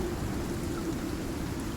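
Steady rain falls in the survival video game Icarus, a constant dense hiss with a low rumbling undertone that stays even throughout, with no voices.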